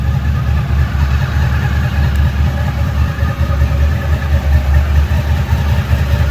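A 1998 Honda VFR 800 V4 touring sport motorcycle idles steadily and close by, with a low, even engine rumble that holds throughout without revving.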